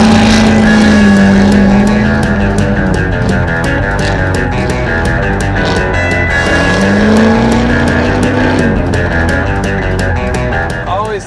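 Street rod car on a hot lap at a street rod nationals track event, engine loud and continuous with rising and falling revs and a steady roar close by.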